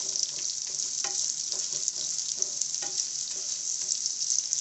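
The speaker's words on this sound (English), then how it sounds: "After few seconds we add in the roughly chopped onions. Saute it for 2 seconds," Roughly chopped onions sauté in a hot pan for a restaurant-style paneer butter masala, giving a steady close sizzle with scattered crackles and a few stirring knocks throughout.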